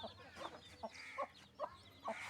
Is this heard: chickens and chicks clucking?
yes